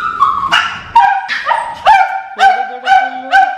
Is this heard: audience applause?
no